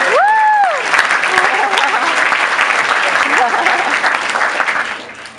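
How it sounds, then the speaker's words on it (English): Sustained applause from an audience at a speech event, dense and steady clapping filling the room throughout, tapering slightly toward the end. "Can we give Salinas a big round of applause?"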